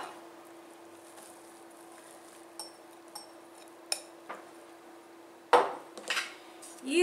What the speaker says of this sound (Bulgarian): И разбърквам добре с дървена лъжица или с шпатула, за да може да се смеси всичко добре.